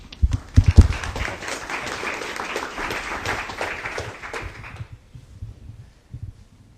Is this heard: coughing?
no